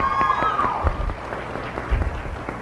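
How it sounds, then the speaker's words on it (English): Applause from a debate audience for a speaker's partner, a dense patter of clapping that starts with a voice over it and thins out, with a couple of heavier thumps and murmuring beneath. "yes, clap for my partner."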